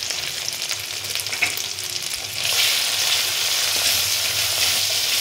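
Ground turmeric, cumin, coriander and chilli powder fry in a hot pan, giving a loud, continuous sizzle with stirring scrapes that grows more intense partway through.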